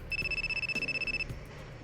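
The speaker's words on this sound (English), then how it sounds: "Hang on, my phone is ringing." In a mystery horror visual novel game, a phone rings with a rapid warbling electronic trill in steady pulses, loud and alone. It stops abruptly after about a second.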